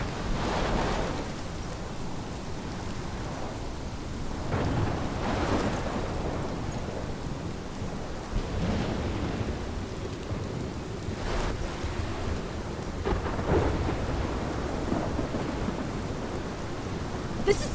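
A thunderstorm in the video game Life Is Strange: steady heavy rain with several deep thunder rumbles rolling in at intervals, continuous and fairly loud.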